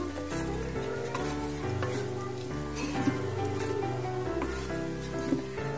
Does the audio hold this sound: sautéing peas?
yes